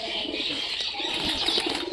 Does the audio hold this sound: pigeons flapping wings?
yes